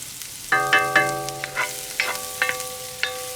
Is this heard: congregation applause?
no